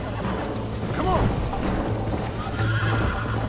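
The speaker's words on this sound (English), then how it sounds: "Oh man, my horse has no stamina." Horse galloping with rapid clip-clop hoofbeats and a sharp neigh in the western video game Red Dead Redemption, with game music and mechanical clicks underneath and voices talking over it.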